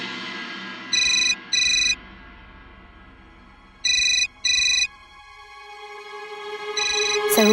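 A landline telephone rings in short double bursts, two pairs of bright electronic trills separated by pauses, with a third ring beginning at the end, loud and alone without talk.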